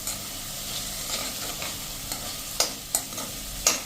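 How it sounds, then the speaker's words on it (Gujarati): Carrots and peas cook in hot oil with spices for a sorghum pulav, giving a soft continuous sizzle broken by a few sharp spatula scrapes and clinks against the pan. "અને એને પણ આપણે એકાદ મિનિટ આ રીતે તેલમાં કૂક કરી લેશું મસાલા સાથે જ"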